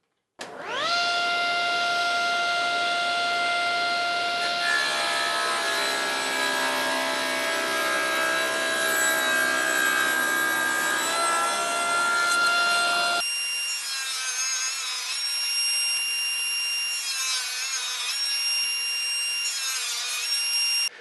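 Table saw running and cutting scrap MDF at a bevel along each side, a loud sustained blade whine with the cutting noise under it, then the pitch changes for the final pass.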